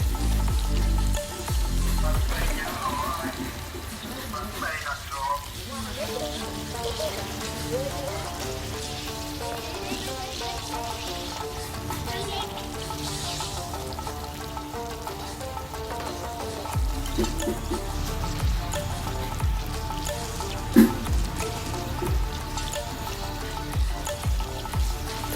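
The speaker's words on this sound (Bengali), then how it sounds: "দেখতে পাচ্ছেন তেলের উপরে এগুলো ভালোভাবে ফুলে উঠছে" Banana fritters (kolar pakora) puff up as they fry in hot oil, giving a steady, dense sizzle like rain that runs unbroken at an even level from start to finish.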